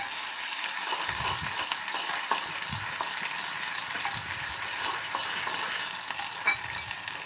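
Onions and ginger paste fry in a pan for a Telangana-style goat liver fry, giving a steady close hiss broken by scraping stirs throughout, no voices.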